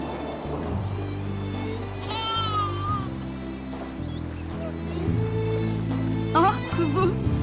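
Lamb bleating amid a busy scene with continuous background music, its wavering cries rising briefly and clearly above the steady accompaniment.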